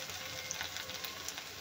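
Dried coconut and ginger roast in a pan until reddened, giving a faint, steady sizzle with a fine crackle, close by and with no voices.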